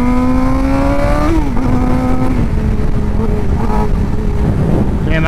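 A 2015 Suzuki GSXR600 sport motorcycle ridden on the road, its engine droning loudly and steadily with pitch rising and shifting as it changes speed, under heavy wind rush.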